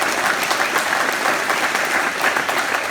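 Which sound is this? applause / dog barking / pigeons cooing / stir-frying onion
applause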